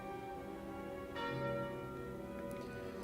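A bell tolls once when the Calling Bell relic is taken in the video game Slay the Spire, a resonant chime sounding over soft game background music and fading slowly.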